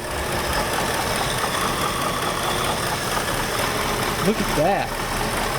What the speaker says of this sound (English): How does it sound out back? All factory exhaust.